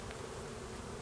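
A steady low droning hum of honey bees at an opened hive during a January inspection, continuous and even throughout with no voices.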